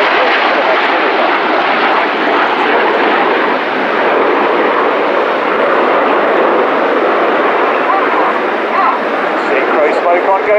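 Display team jets, Red 6 and 7, flying low with coloured smoke at the Fairford air show, a loud continuous broadband roar that holds steady, with talk over it.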